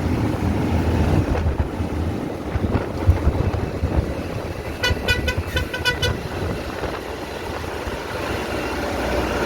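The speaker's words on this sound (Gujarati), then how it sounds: "બહુ ઠંડો પવન આવે છે" Steady, loud cold wind roars across the microphone on a road near Ilkal, with a brief series of high, pulsing toots partway through.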